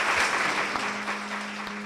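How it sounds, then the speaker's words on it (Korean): Church congregation applauding, a steady dense wash of clapping that holds for a couple of seconds with faint voices mixed in. "박수 부탁드리겠습니다"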